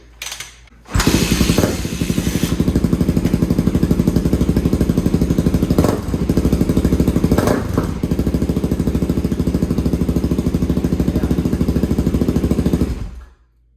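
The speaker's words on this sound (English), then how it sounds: "That is a kickstart on a 2022 Suzuki DRZ400 Supermoto." A 2022 Suzuki DRZ400 Supermoto is kickstarted on the first kick in sub-zero cold. The single-cylinder engine catches at once and idles loud and close with a steady, rapid thump for about twelve seconds before cutting off.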